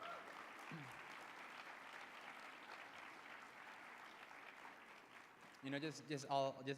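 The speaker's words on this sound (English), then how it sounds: "Can we get another round of applause, please, for the National LULAC Youth Board?" Audience applause for the National LULAC Youth Board at a youth awards event, steady moderate clapping filling most of the stretch before a voice begins speaking near the end.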